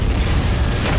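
A Hummer blown up in the desert for an action-movie explosion: a dense, sustained low roaring boom fills the whole second at high level, with rumbling body and no voices.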